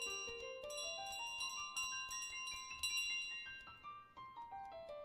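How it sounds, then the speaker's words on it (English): In Untitled Goose Game, a bell carried by the goose rings in a steady series of bright metallic chimes with a descending melodic pattern, continuous and clear over about five seconds with no talking. "the bell will stop ringing and it won't attract all the attention"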